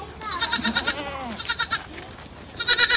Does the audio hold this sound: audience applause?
no